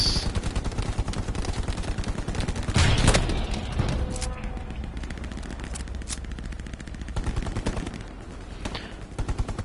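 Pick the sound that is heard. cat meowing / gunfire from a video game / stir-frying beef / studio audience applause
gunfire from a video game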